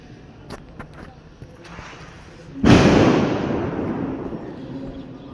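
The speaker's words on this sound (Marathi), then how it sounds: "सगळं 3-4 जण फटाके फोडतात" A few faint pops come first, then a loud firecracker bursts nearby in a garden at Diwali dawn, with a sharp crack that decays into a lingering rumble.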